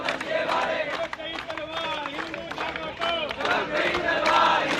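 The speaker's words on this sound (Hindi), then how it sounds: "दिल्ली पुलिस हेडक्वार्टर पर सभी सनातनियों की भीड़ आप देख सकते हैं" A large crowd of Hindu supporters gathers outside Delhi Police headquarters, with overlapping shouting and chanting voices rising and falling in loud bursts, close and lively throughout.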